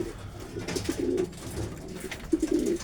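Racing pigeons in a small loft coo in soft, repeated low murmurs, several birds close by with light rustling and shuffling around them.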